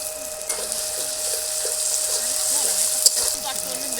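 Ground cumin paste fries and is stirred in hot oil with onion and garlic in a kadai wok for chicken curry, making a steady, close hiss of sizzling with a faint voice beneath and one sharp utensil click.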